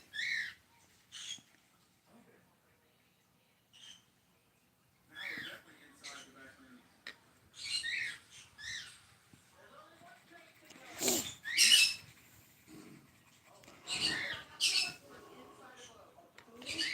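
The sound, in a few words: green-cheeked conure pet birds squawking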